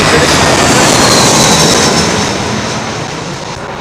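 A passenger jet roars low overhead on final approach to Heathrow's runway 27L, a loud, broad engine rush that slowly fades as the aircraft passes.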